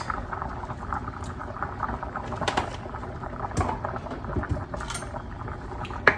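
Fettuccine sauce with heavy whipping cream simmers in a pan, making a continuous soft bubbling crackle with occasional small pops and no voices.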